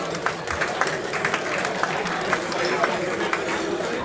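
Crowd applause at an amateur boxing evening in Bristol, a continuous wash of clapping and cheering from a packed hall, steady and fairly loud throughout.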